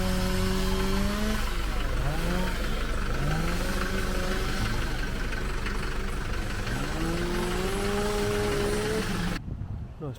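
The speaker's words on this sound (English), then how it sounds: "A classic Balkan Mercedes." A classic Mercedes car goes by on a street in Zadar, Croatia. Its engine drone is close and loud, with pitch gliding up and down through gear changes, before it cuts off near the end.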